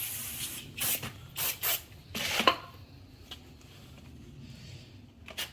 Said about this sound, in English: get a little brake clean and